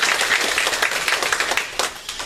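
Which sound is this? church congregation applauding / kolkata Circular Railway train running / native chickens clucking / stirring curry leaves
church congregation applauding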